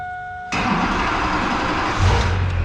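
A Duramax diesel truck engine cranks and catches with a sudden roar, then settles into a loud, steady rumble that swells briefly as it revs.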